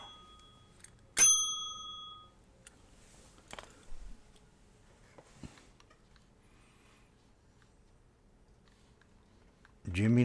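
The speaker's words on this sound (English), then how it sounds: "Playing the bell." A single sharp ring of a small bell rises loud near the start, with harmonic tones ringing out briefly, followed by faint clicks and low background noise.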